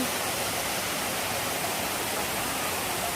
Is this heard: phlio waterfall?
yes